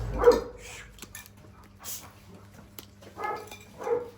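A dog barks and yips in a few short close bursts, spaced out over a few seconds, with faint background noise between them.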